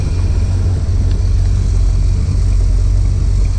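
A Ford 351W V8 idling just after its first startup, with a leaking manifold spitting water: a steady, close, even low rumble that holds without revving for the whole stretch.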